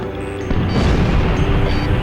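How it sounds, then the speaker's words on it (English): Bombs exploding in the flight game Ace Combat Zero during a city bombing raid, heavy booming blasts rolling one into another after a brief lull, loud and continuous with a faint high tone early on. "They're just tossing bombs all over the place"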